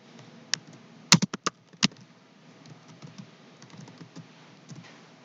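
Someone types a sentence on a computer keyboard, a quick cluster of sharp key clicks early on, then softer, scattered taps continuing quietly.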